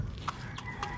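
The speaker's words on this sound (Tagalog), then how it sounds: "papakain na natin yung apat dito na mga inahin" Backyard hens clucking: a couple of short, close clucks over steady outdoor background noise.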